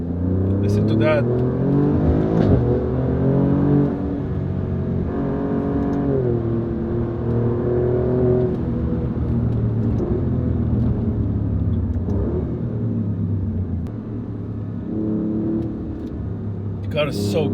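An Alfa Romeo Giulia Quadrifoglio engine revs hard as the car accelerates, a loud, continuous snarl whose pitch climbs and falls through the gears, with someone talking over it.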